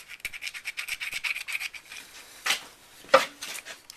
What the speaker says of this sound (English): I'm using the old chainsaw file to try to get in here at some of that tooth root.